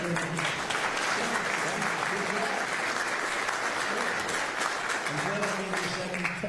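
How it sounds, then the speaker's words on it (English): Loud, sustained applause from a large audience at a presidential bill-signing event, dense clapping filling the whole stretch with some voices and speech mixed underneath. "You didn't hear because of the thunderous applause for Hester."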